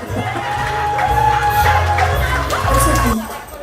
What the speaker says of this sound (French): on peut applaudir Jean-Charles qui fait un petit défilé discret